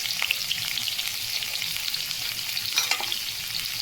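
Onion frying in oil in a pan for a single egg, a steady close sizzle with occasional crackles and a few light stirring clicks, no voices.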